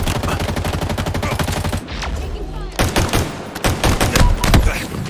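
Heavy automatic gunfire in Halo Infinite, rapid loud bursts of shots rattling in quick succession, a brief lull, then more close, punchy fire returning with sharp individual cracks; a voice is faintly present underneath.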